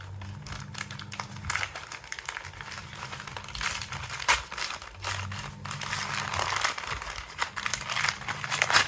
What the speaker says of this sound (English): Very simple paper packaging is there, and you have to just tear it.